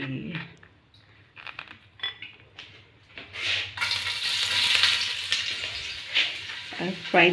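Rice frying in a pan for breakfast: a few clinks of utensils, then a steady sizzle with stirring and scraping that rises and holds, a voice briefly audible.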